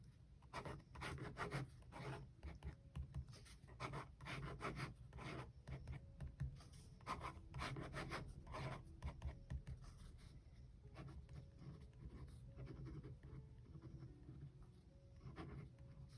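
A Zebra bLen 0.5mm ballpoint pen writing and drawing on paper, giving soft, continuous scratchy rubbing strokes in quick irregular bursts, close up with no voices.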